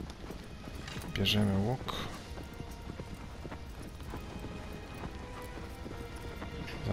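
Horse hooves from the Shadow of the Colossus video game clopping steadily in the background, with a brief louder rumble early on, under a man's continuous speech.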